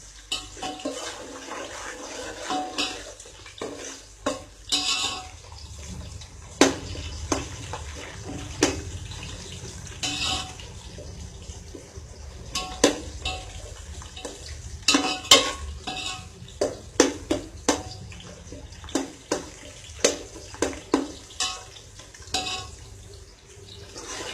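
Onions sautéing in a pan until browned, with a steady low sizzle and repeated sharp scraping knocks of a spoon stirring against the pan at an irregular rhythm, close and without speech.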